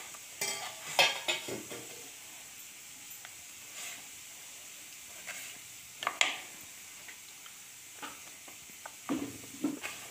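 Potato fries crackle in hot oil in an iron pan, a faint steady sizzle broken by scattered louder clinks and stirring bursts, with no voices.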